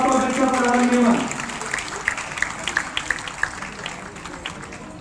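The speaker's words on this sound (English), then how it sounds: "A big round of applause for Mr. Farhan Mehman." Applause from the audience at a university convocation ceremony in Sukkur: after a speaker's announcement, scattered clapping rises and carries on as a moderate, uneven patter.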